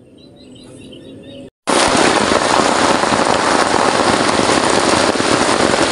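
Heavy rain pours down outdoors at Dagatan Lake. After a short quieter stretch with faint birdsong and a brief gap, a loud, dense, continuous downpour hisses close by.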